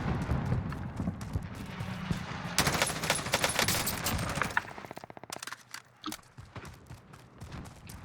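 Gunfire in the Call of Duty Warzone video game on the Caldera map: rapid bursts of automatic fire and loud cracks, dense in the first half, then thinning to scattered shots and thuds with no speech.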